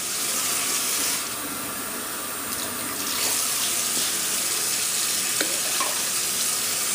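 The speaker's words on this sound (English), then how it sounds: "And this time I'm going to put the water in first." A kitchen faucet pours water into a blender jar before the beets and apple go in, a steady near rushing stream that dips briefly and then resumes, with faint clinks and no speech.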